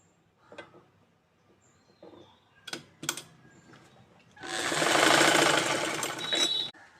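A few soft taps and clicks come as the fabric is positioned, then an electric sewing machine stitches a blouse shoulder seam in a loud, fast, steady burst of about two seconds before stopping.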